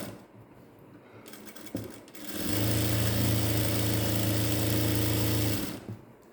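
A sewing machine runs a steady double line of stitching on ladies' straight-cut pants, starting after a couple of seconds of handling noise and humming loudly and evenly for about three seconds before stopping.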